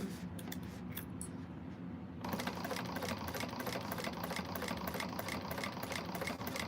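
A sewing machine stitches a quilted bag. After a quieter start of about two seconds it runs at a steady pace, with a close mechanical hum and a rapid, regular needle ticking, and no voices.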